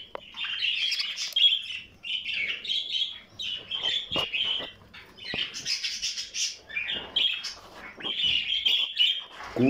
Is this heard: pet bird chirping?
yes